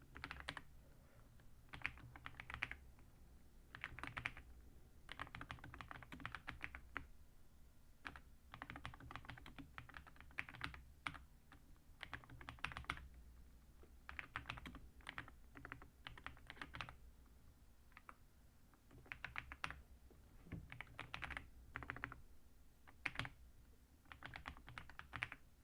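Rapid, uneven bursts of keys clacking on a computer keyboard during a live geography quiz game, with short pauses between flurries and steady background hum; no talking.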